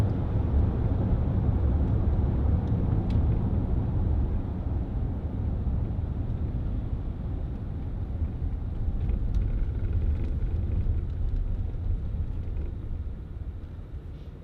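Steady low engine rumble and road drone from a 2010 Range Rover Sport 3.6 TDV8 HSE diesel V8 while driving, continuous and fairly loud throughout with no talking.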